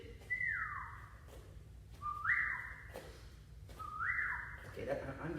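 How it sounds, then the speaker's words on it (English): Three long whistles sound during a kids' martial arts class, each a bright tone sliding downward and lasting about a second, spaced evenly over a faint low hum of the room. "I'm getting a little annoyed with the whistle."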